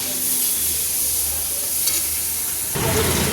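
Onions sizzling in hot oil after bay leaf tempering, a steady close frying hiss with a louder burst of crackle near the end.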